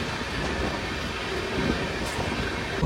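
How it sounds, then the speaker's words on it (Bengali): Interior of a moving Padatik Express AC 2-tier carriage between Kolkata and New Jalpaiguri: a loud, continuous rumble of wheels and carriage noise with faint rhythmic clatter, steady throughout and with no voices. "পদাতিক এক্সপ্রেসের এসি 2 টিয়ার ট্রেন জার্নিটা আমার কাছে ফার্স্ট ক্লাস।"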